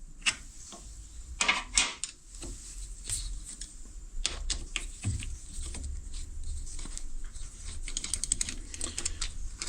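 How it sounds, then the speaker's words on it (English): Screws being undone on the compound slide of a Myford Super 7 lathe: a run of small, sharp metallic clicks and ticks, close and fairly quiet, scattered irregularly over a low steady hum. "So I'll just open these 4 screws first"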